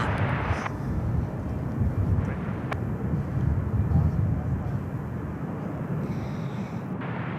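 A Swiss airliner landing at San Francisco airport, heard as a broad, steady jet roar that holds throughout at moderate distance, with people talking over it.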